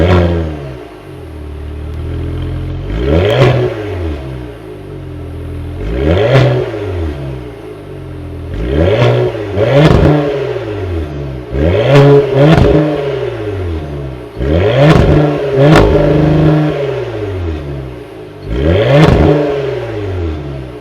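A 2026 Cadillac CT5-V's 3-liter twin-turbo V6 is revved repeatedly from idle, about eight loud, close blips that rise sharply and fall back, with no talking.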